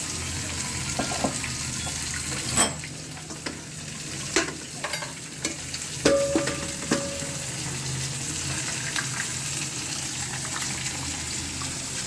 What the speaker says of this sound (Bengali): এদিকে মাছের মাথাগুলো ভালোভাবে ভাজা হয়ে গেছে